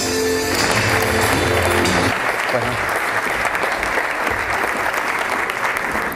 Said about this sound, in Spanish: Fuerte un aplauso.